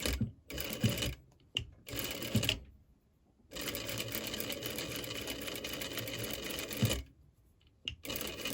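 Sewing machine stitching patchwork fabric for a noren curtain, running in steady mechanical bursts with short pauses between, close and fairly loud.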